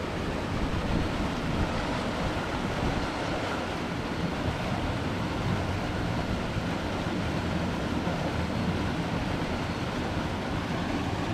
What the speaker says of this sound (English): The water's flowing out of there really fast, and you can actually see here, look, the water's flowing out of that hole in the wall.